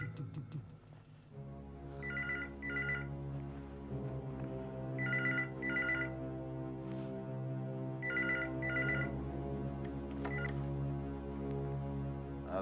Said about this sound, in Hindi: लो, उसी का फोन होगा।